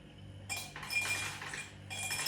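Ice cubes clink and rattle into a cup from an ice maker in a few bright bursts, close and fairly quiet, with short pauses between them.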